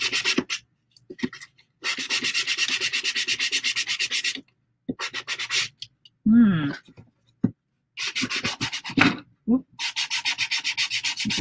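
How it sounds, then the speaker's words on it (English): Sandpaper rubs back and forth along the edges of a handmade recipe box in several close, loud bursts of scratchy strokes, separated by pauses and a few short handling sounds. "Sand down the edges."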